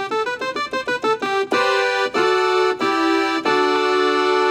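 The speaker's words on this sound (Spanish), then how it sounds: "elijamos la onda de diente de sierra, que es la que suena así" A bright, buzzy sawtooth-wave synth tone rich in harmonics, first a quick run of short rising notes, then longer sustained notes with brief gaps, played alone.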